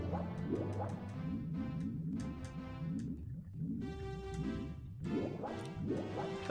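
Mario dives and splashes into water in Super Mario 64, with repeated watery plops and splashes over a steady, bouncy game music loop, moderately loud throughout.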